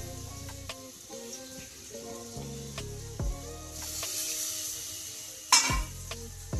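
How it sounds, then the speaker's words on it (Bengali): Potatoes for aloo posto sizzle and fry in a pan, stirred with a utensil that clinks and scrapes against it. A louder hissing burst comes near the end as a little water is added. No one talks. "এরপর খুব সামান্য একটু জল অ্যাড করছি।"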